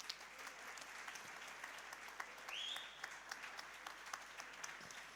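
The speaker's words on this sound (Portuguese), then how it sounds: "Uma salva de palmas." Audience applause at a European funds showcase event in Portugal after a migrant group's presentation, a sustained patter of many hands at moderate distance, with a brief tonal whistle or squeal rising partway through.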